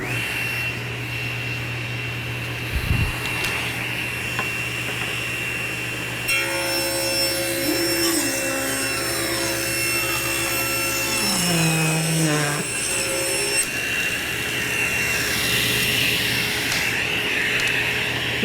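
A table saw with a 40-tooth blade cuts hardwood, giving a steady loud whine with a rising and shifting tonal ring in the middle of the cut, alone with no talk.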